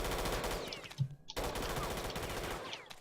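Rapid automatic gunfire rattles continuously at the player in the Eisenfaust: Legacy video game, dense and close, with a brief pause near the middle before the shooting resumes.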